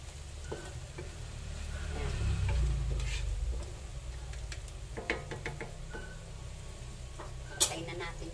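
Eggs and chicken nuggets fry in a pan with a low, steady sizzle, broken by occasional light taps and scrapes of a utensil against the pan.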